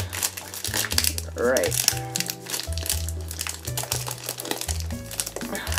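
Crinkling and crumpling of packaging as a premium box is torn open, loud and close, with someone talking over the handling noise and music playing underneath.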